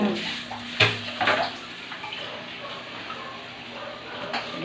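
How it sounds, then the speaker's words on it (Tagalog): Water runs steadily from a tap as feet are washed, with a few louder splashes near the start and a constant close hiss throughout; no talk. "Maghugas ko sa paa."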